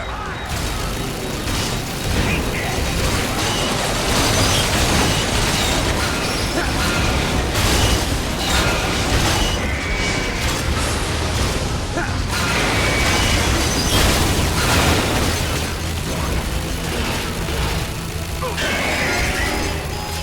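Missile explosions in Metal Gear Solid 4: Guns of the Patriots on PS3, a dense, loud, unbroken barrage of booming blasts and crashing debris lasting the whole stretch, with voices faintly mixed in.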